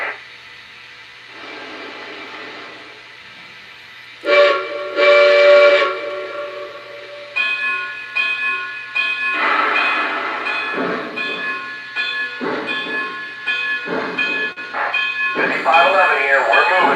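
An O scale model train runs on a layout, sounding its whistle in several loud, sustained blasts. Clanking and rumble accompany it, and voices talk over parts of the sound.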